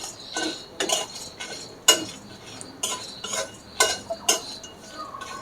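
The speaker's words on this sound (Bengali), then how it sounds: "এরপর এটা শুকনো কড়াইতে একটুখানি ভেজে নেব।" Whole cardamom, cumin, coriander seeds and cinnamon dry-roasted in a kadai, stirred with a metal utensil: close, intermittent scraping and light clinking strokes in an irregular rhythm, with no talking.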